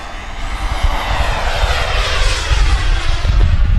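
A Freewing Zeus 45NT turbine sport jet runs steadily nearby, a loud continuous roar with a high whine layered over deep rumble, holding constant throughout.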